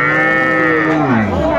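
A cow at a cattle market lets out a single loud, close, drawn-out moo that slides downward in pitch toward its end.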